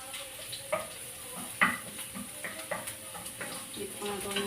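Garlic sautéing in a frying pan for stir-fried green beans with pork, a steady sizzle with scattered clinks and scrapes of stirring, close and moderately quiet, no talking.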